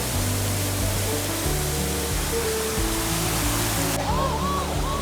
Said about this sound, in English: we heard the sound of the waterfall